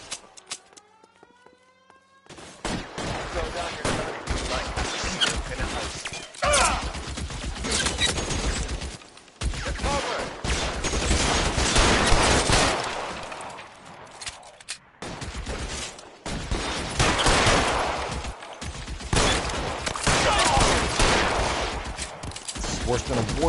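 Rapid bursts of gunfire from a shootout in the video game L.A. Noire, loud and near, with sustained volleys that stop and start across the scene.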